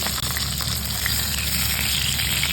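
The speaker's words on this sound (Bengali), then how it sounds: "এবার আমি বেগুনগুলো একটু ভেজে নেব।" Eggplant pieces fry in hot oil in a wok, producing a continuous loud sizzle with fine crackling and occasional pops.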